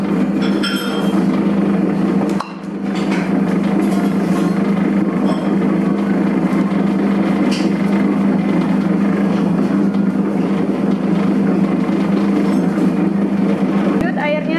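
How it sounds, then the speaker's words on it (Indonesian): A dough mixer runs, kneading bread dough for fried panada pastries with a loud, steady motor drone and rumble that holds throughout, apart from one brief dip. "Ini langsung nyalain mesinnya, langsung dinyalakan mesinnya"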